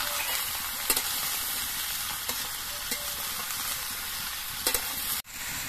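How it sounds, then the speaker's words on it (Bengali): Bottle gourd pieces fry in hot oil with a steady, close sizzle while being stirred, a few sharp scrapes of the utensil standing out, ending in a brief knock. "লাউ গুলো চিনিয়ে রেখে রেখে তেলের সঙ্গে মিশিয়ে দিতে হবে।"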